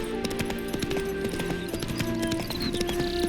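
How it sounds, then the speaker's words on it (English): Horse hooves clip-clop in a steady rhythm close by in The Witcher 3, the mare Roach spooked by ghosts, with a brief whinny over game ambience and music. "Spooking my horse. Roach doesn't like ghosts."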